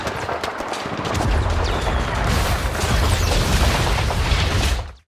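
Dense, rapid booming blasts and crackling impacts pile up continuously, like a barrage of cannon fire from a boat in LEGO Fortnite, loud and chaotic throughout.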